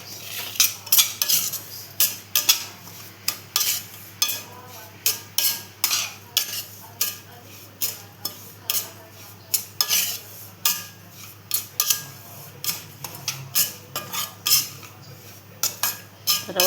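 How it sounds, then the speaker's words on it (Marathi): Semolina roasting in a pan for pineapple sheera, stirred with a metal spoon that clinks and scrapes against the pan in a steady, busy rhythm, close and fairly loud with no talking. "इथे रवा भाजून घेतोय आपण"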